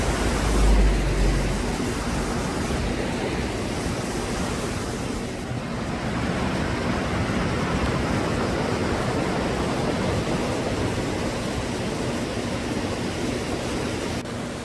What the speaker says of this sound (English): This is one of the weirs.